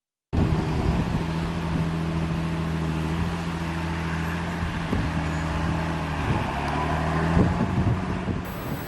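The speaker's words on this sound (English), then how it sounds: "Here you can see a John Deere tractor and plough" A John Deere tractor pulls a plough with a steady, droning engine hum and faint rhythmic knocks, while wind buffets the microphone throughout.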